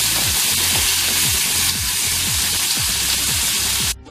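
Chopped green chili and tomato frying in a pan give a steady, close, loud sizzle with a faint rhythmic scraping throughout, ending abruptly.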